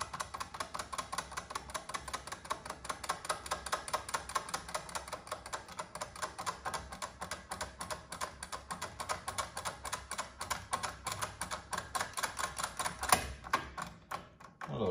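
Rapid, steady clicking and ticking of a pick and tension tool working a Cr MRX lock, pins setting one after another in a dense close-up rhythm, with a slightly louder click near the end.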